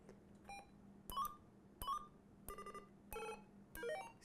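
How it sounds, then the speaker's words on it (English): A President Walker III CB radio cycles through its roger beep tones: a string of short electronic chirps and multi-tone bleeps, some rising in pitch, each separated by brief pauses, heard close over a steady low hum. "So you have your different Roger beep"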